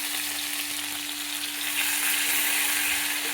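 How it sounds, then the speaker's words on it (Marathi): Onion masala paste frying in two spoons of hot oil in a kadhai, a steady, loud, dense sizzle that runs unbroken throughout, with faint stirring underneath. "इथं 2 चमचे तेल टाकलेलं आहे कढईमध्ये. आता आपण 2 चमचे ही बनवलेला कांदा मसाल्याचं पेस्ट टाकून घेऊया."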